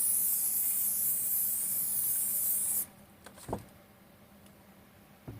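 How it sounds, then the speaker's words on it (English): Hairspray from an aerosol can hisses in one continuous burst onto a handmade polyfiber foliage sheet for model bushes and trees, then cuts off, followed by a soft handling rustle and a light knock. "Lock it in with the hairspray."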